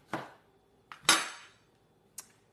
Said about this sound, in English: When you cut a lemon across, you get all that little lemon cartilage there.